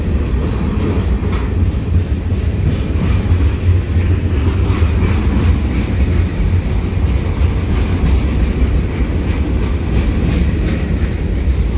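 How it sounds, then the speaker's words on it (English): A loud CSX freight train rolls past close by, running down the middle of a street in La Grange, Kentucky, a continuous heavy rumble with rhythmic wheel clatter over the rails. "full freight train right down the middle of the street."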